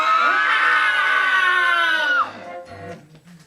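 An audience at a Sunday night show at The Venue on 35th screams loudly in unison, a sustained wall of high shrieks that breaks off after about two seconds, leaving faint murmurs.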